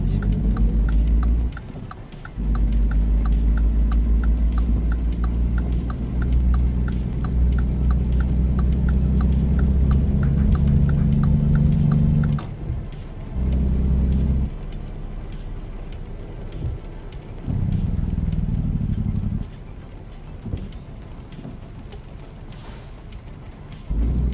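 A Volvo VNL 2014 truck engine in American Truck Simulator drones in a loud steady low rumble that rises and drops with gear changes and throttle, with brief pauses and a faint ticking, no talk.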